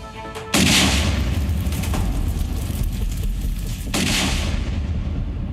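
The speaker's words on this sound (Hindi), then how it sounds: "ये धमाके की आवाज तो बस आगाज है।" Two heavy explosions, the first a sudden deep blast followed by a long rumbling roar, then a second booming burst a few seconds later.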